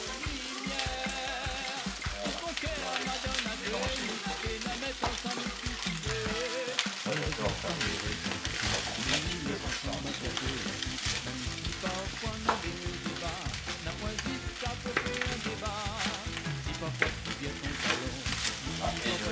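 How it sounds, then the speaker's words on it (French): Chopped onions sizzle steadily with salt cod in a hot pan for a Réunion-style rougail morue, a dense continuous frying hiss with occasional stirring clatter, close and loud throughout, with no one speaking. "On va faire revenir nos oignons dans cette morue"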